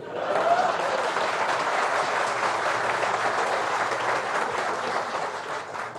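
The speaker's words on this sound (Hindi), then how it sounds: "लेकिन जब मैं कहूं तब ताली बजती है।" Audience applause at a public stage event in India, a sustained wash of clapping from a large crowd lasting the full stretch at steady loudness without fading.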